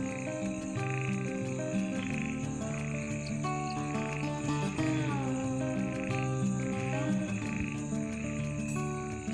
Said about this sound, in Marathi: तर 2 मिनटं तुम्ही फक्त आवाज ऐका बेडकाची